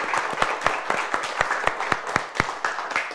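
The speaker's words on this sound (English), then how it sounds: "Let's give them a round of applause, yes!" Applause from a school audience after 4th, 5th and 6th graders are recognised for crafting stories, with distinct claps landing in a steady rhythm over a softer spread of clapping for about three seconds, fairly close.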